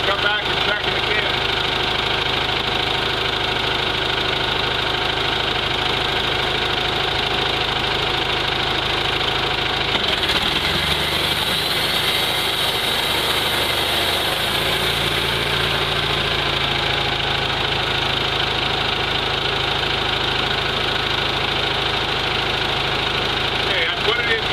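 A Mighty Mite bandsaw mill engine runs at a steady idle, a constant mid-pitched drone with a faint knocking pulse, briefly shifting in tone partway through while it keeps running evenly.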